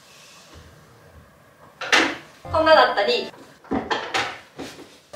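An office chair's height is adjusted with a few mechanical clunks and a brief hissing shift of the lift, close and loud, while a person talks between them.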